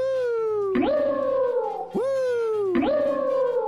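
Alomomola's Pokémon cry from a video game: three long warbling, falling whale-like calls in a row, loud and clear with no talk over them.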